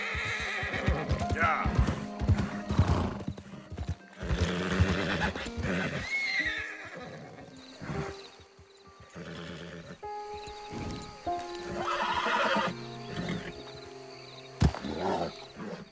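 Horse neighing and whinnying with clip-clopping hooves in Red Dead Redemption 2, loud and close in the foreground, with repeated whinnies over a busy mix of game sounds and a voice talking.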